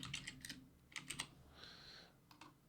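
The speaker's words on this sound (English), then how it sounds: "open up the search bar and just type" Clusters of quick, quiet keystrokes clatter on a computer keyboard as text is typed into a search bar in lighting console software, in short bursts with brief pauses, close and soft.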